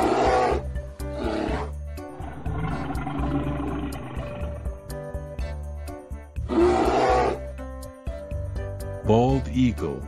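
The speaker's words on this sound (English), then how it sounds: "Polar bear." A polar bear gives deep, rough roars and growls in several loud, close bursts separated by short pauses.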